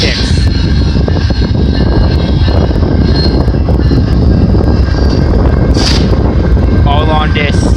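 VIA Rail locomotive 910 passing on the Dundas subdivision at Colborne Street in London, Ontario, a loud, close, steady rumble of rolling wheels with wind buffeting and brief wheel squeals and a faint horn-like tone.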